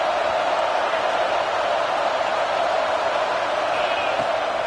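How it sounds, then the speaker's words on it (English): A packed football stadium crowd roars in a dense, constant wall of noise, loud and unbroken from start to finish, with no distinct voices standing out. "Listen to this crowd just shaking the girders of this place"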